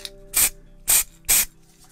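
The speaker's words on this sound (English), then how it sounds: "let's open it up and let's start spraying" Three short bursts from an aerosol can of primer sprayed onto miniatures, each a loud, close hiss lasting about a quarter second with brief quiet gaps between.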